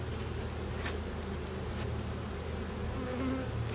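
A honeybee swarm buzzing around a beehive: a dense, continuous drone of many wings holds steady and fairly loud throughout, with no voices.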